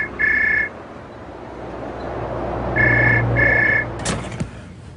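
A telephone rings in three bursts, the first a single ring and the later two close together, with low background noise and a brief knock near the end.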